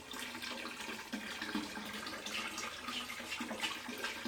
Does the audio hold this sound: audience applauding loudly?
no